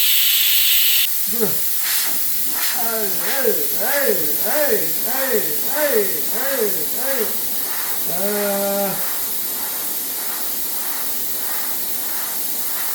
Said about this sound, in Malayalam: Cooker മൂടാണ്, 2 whistle.